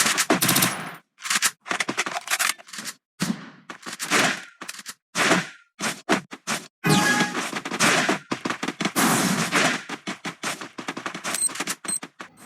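Rapid bursts of gunfire in a Counter-Strike match, loud and close, with fast automatic volleys broken by short silent gaps over several seconds and no talking.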